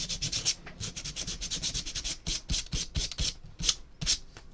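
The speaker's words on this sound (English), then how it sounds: "Now it's coming off. Yeah, it's P60. 60 grit." Hand sanding with 60 grit sandpaper, a coarse, rapid back-and-forth rasping of many quick strokes, close and fairly quiet, alone without talk.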